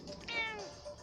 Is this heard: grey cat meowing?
yes